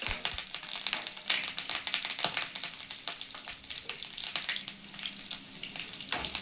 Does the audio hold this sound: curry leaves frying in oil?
yes